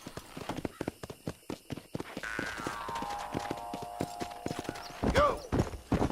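Rhythmic clip-clop of horse hooves at a fast pace in a Red Dead Redemption town, with a whinny near the end, a sustained tone and game sounds layered over the hoofbeats.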